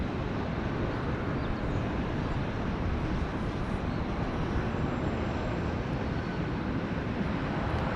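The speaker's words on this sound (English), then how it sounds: "Southwest Flight 4034 about to touch down from Phoenix, no, from Philadelphia" A Southwest airliner landing at Dallas Love Field makes a steady, broadband rumbling roar that holds at a constant moderate level and sounds somewhat distant, with no talking.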